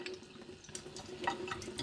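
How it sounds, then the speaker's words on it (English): Tap water runs steadily over a Japanese Aiwatani natural sharpening stone, a continuous close splashing wash with small drips and spatters while the blade is worked under the flow. "On this one, I like to go on the running water"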